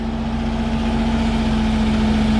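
A 1983 Buick Regal's engine runs loud and close with a steady, even drone. There is no clear swell from a rev.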